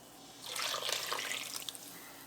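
The contents of a skillet are poured into a crock pot in a brief, soft, wet slosh and splatter lasting about a second, with faint drips trailing off.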